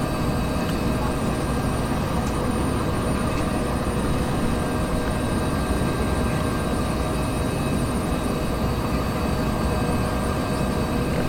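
A Bell 412 helicopter in the X-Plane 11 flight simulator climbs with a constant, loud, dense turbine and rotor drone, broadband and unchanging throughout with faint steady tones on top.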